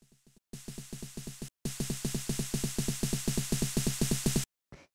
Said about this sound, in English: the next thing we have here is this 909 snare, which is in the build-up, which sounds like this.